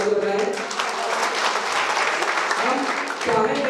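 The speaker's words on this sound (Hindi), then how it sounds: "उनके लिए भी जोरदार ताली बजाएं।" An audience at a community association gathering applauds, a dense burst of many hands clapping together that swells and then tapers off, loud and close, with a voice briefly heard over it.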